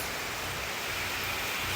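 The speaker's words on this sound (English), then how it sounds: "It is raining cats and dogs." Heavy rain pours down in a dense, even hiss, loud and steady for its short duration with no distinct drops standing out.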